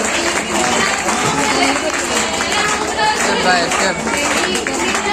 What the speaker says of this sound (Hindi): तालियां स्टेप बाय स्टेप बजाइए